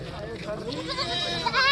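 Goats bleat repeatedly amid a busy crowd at a village goat market, with people talking nearby and a louder, wavering bleat rising near the end.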